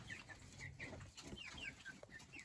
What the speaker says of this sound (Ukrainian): Ось молоденька курочка п'є водичку.